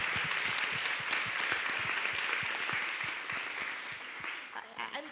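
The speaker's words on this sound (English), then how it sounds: "can we give a big round of applause to CC dads for a minute?" A conference audience gives a round of clapping for dads at a national gathering, a fairly full steady applause that thins and tapers toward the end with a few scattered claps.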